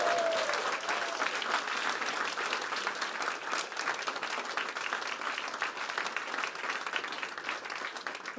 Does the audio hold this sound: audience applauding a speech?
yes